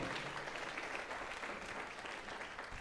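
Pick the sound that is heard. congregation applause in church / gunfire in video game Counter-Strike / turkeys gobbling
congregation applause in church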